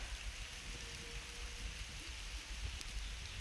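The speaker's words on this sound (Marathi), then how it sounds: "पाऊस परत चालू झालाय" Steady rain falling outdoors in a village, a broad continuous hiss of drops on surfaces, even and moderately faint with a few brief louder spatters, with no talk.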